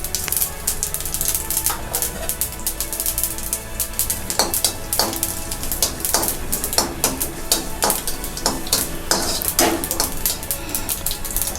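Mustard seeds and cumin splutter in two spoons of hot oil in a wok-like pan while making adai dosa, a dense, continuous sizzle full of sharp popping crackles, close and steady for about ten seconds.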